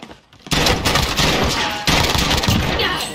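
Loud, close gunfire erupts in a Call of Duty Warzone match, rapid overlapping blasts with booming impacts that break off briefly and then resume in a second volley.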